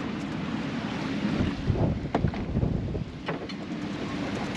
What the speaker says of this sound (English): Winds are blowing like 25 right now.